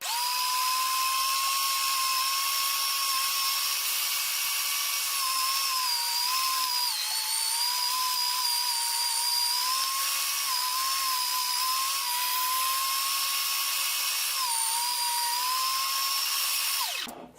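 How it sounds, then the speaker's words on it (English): Electric meat grinder running while grinding short ribs with other meat for hamburgers, a loud steady high-pitched motor whine that dips slightly under load, alone and close, stopping at the end. "So let's turn the meat grinder on."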